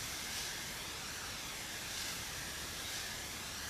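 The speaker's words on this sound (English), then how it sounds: "Throw a little bit of mist in there." Steady, continuous hiss of a spray mister wetting a pawpaw graft cage, close and unbroken for several seconds with no talking.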